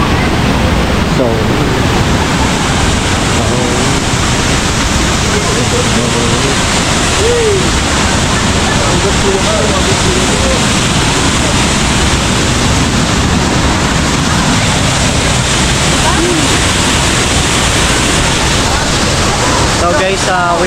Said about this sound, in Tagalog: we are here in Taytay Falls